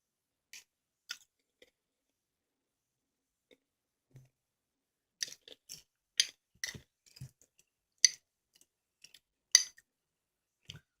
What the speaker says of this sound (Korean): 이렇게 위에 있는 바삭한 것만 먹어주겠습니다